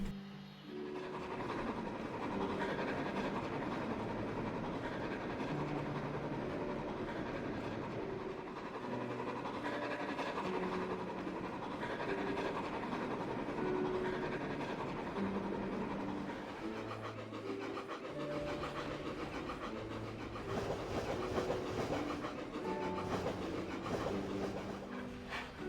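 A model farm train running along rails toward Vicarstown, a continuous rolling rumble with faint rhythmic clatter and a few tonal squeals, steady and moderately distant, with no voices.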